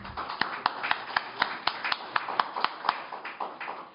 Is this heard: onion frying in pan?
no